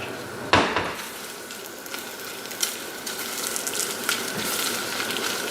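Shrimp shells fry in vegetable oil in a pan with a steady, close sizzle. A clatter sounds near the start, and a few light knocks follow as the shells cook.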